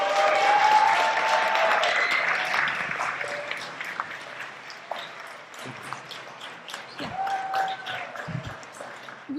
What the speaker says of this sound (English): join us in giving the teams another well-earned round of applause.